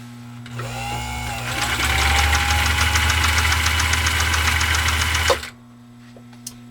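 A 1.5 amp Husqvarna Viking sewing machine stitches through 6 to 8 ounce vegetable tanned leather in a fast, loud, steady mechanical chatter over a motor hum for about five seconds before stopping abruptly.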